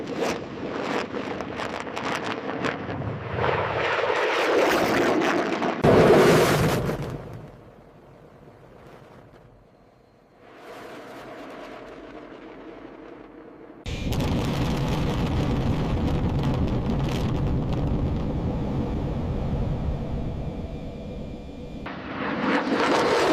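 A B-2 Spirit bomber at full-power takeoff: a loud, roaring jet rumble that swells, drops away to a quieter hiss for several seconds, then returns as a sustained heavy roar for the rest of the clip.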